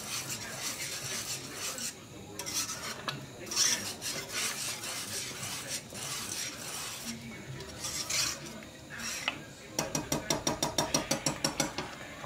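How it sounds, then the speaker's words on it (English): Whipping cream being whisked into a sauce in a pan, with irregular scraping and clinking strokes that turn into a quick, even run of metallic whisk beats near the end; close by with no talking. "I don't want to whisk it too much because I don't want to break it up that bad"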